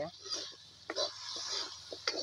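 Kuchia eel fish frying in a pan gives a steady hiss and sizzle, broken by a few soft utensil clicks and scrapes.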